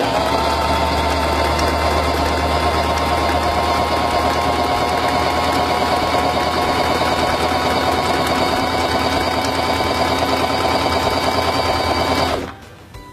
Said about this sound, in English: press the foot control to begin sewing